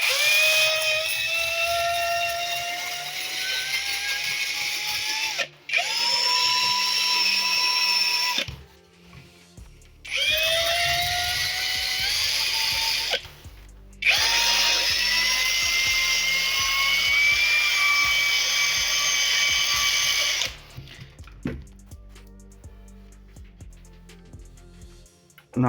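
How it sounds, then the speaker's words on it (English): An electric screwdriver fitted with a sanding head sands the wooden planking of a San Felipe model ship. Its high motor whine rises in pitch through several bursts, with short pauses between them and no talk over it. "I'm just using the screwdriver and the head like this, guys. I'm going to do a little bit of sanding."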